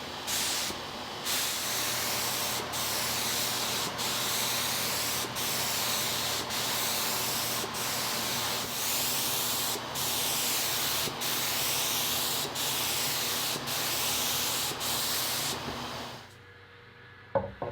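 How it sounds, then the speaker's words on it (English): Repeated long bursts of clear lacquer spray hiss, about a dozen steady passes separated by brief gaps, ending in quieter handling noise. "For the finish, I'll use 3 coats of Mohawk's Finisher's Choice clear lacquer"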